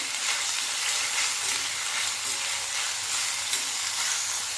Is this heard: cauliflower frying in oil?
yes